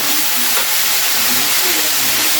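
Vuchrakatha greens fry in a hot pan with a steady, loud hiss and sizzle throughout, the stirring barely audible beneath the continuous frying noise.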